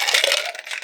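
Ice cubes tumbling into a cocktail shaker for a bourbon whiskey smash with simple syrup, a brief bright clattering crunch up close that fades within a second.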